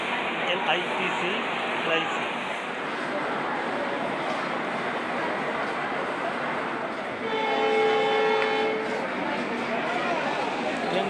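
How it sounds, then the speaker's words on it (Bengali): A BG Express train passing through Dimapur station rumbles steadily with wheel and carriage noise, and a long horn sounds near the end; people talk over the scene. "ট্রেন চলে যাচ্ছে।"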